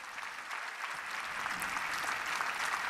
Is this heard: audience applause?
yes